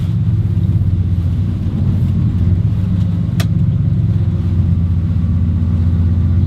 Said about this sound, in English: Just like that. Engine off.